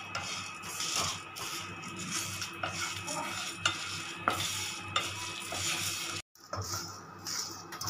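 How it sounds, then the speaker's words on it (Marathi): Sambar masala spices and red chillies dry roasting in a pan over a low flame, with steady scraping stirs and clinks of a spoon against the metal, one brief pause near the end, then the stirring resumes, close and moderately loud with no talk. "आता आपल्याला हे सगळं साहित्य मंद गॅसवर भाजून घ्यायचं, हलकं भाजून घ्यायचं।"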